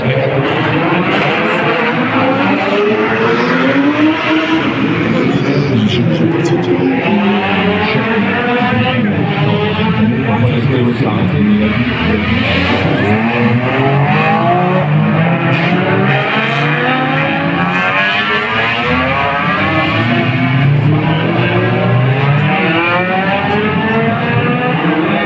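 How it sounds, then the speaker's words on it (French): Race cars at the Circuit des Remparts 2021 roar past continuously with engines revving and shifting pitch, a loud, dense motor drone, while a voice talks over it. "Ce sont les voitures de course"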